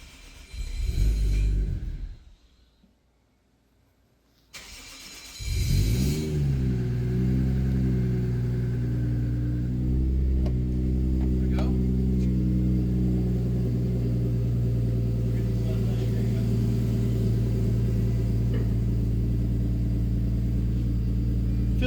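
A Toyota Chaser's 1JZ engine cold-starts: a short burst of cranking, a brief pause, then the engine catches and settles into a loud, steady, rumbling idle that continues alone.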